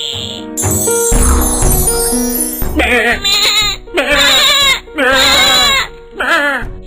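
A person's voice imitates a goat, giving a run of loud, wavering bleats in quick succession, close and prominent, in a Bengali comedy ghost story.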